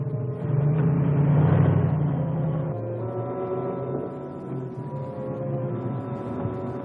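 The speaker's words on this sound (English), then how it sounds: "Listen, there is a car coming." A car engine rumbles steadily and swells to a peak, then eases off into a lower drone with no one talking.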